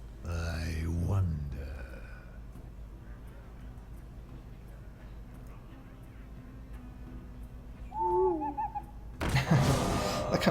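A synthesized owl card sound from the Hearthstone digital card game gives a short warbling hoot sequence partway through, amid quiet game background tones, with other game effects at the start and end.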